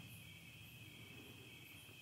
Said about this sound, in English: The sound of the crickets in the background.